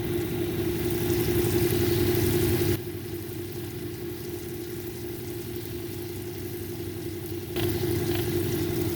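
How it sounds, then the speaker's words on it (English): A cerium oxide impregnated disc runs as a banded onyx cabochon is polished against it, giving a steady whirring, grinding hiss that drops quieter for several seconds mid-way, then picks back up. "This is an adhesive impregnated disc here with cerium oxide"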